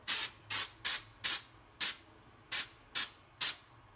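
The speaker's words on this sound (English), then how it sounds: "I've got a can of Stone Accent spray here" A can of Stone Accent textured spray paint hisses in nine short, bright bursts with brief pauses between them, close to the microphone and otherwise quiet.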